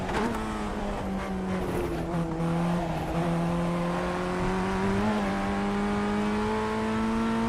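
A race car engine in a racing video game drones steadily at high revs, pitch sliding gently up and down as it shifts, loud and continuous throughout.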